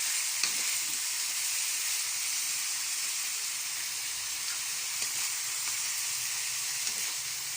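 Pork and liver adobo sizzles steadily in a hot pan while it is stirred, with occasional light scraping clicks over a continuous bright frying hiss. The sizzling is close and even, and no one speaks.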